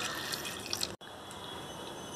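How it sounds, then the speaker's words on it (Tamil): Half a tumbler of water poured over jaggery in a pan for a wheat flour cake, a steady close trickling pour with a brief break partway through and no talking. "இதுக்கு ஒரு 1/2 டம்ளர் தண்ணி ஊற்றி கரைச்சி எடுத்துக்கலாம்."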